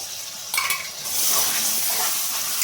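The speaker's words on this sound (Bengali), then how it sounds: "2টো পেঁয়াজ পেস্ট করে রেখে দিয়েছিলাম, সেটাও আমি কড়াইতে দিয়ে দেবো" Onion paste is dropped into hot oil in a wok and fried, starting with a few clinks of a utensil against the pan, then rising into a loud, steady sizzle.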